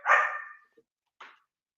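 A single loud, close dog bark rings out, followed by a faint tiny blip and then a softer, shorter second bark, with silence in between.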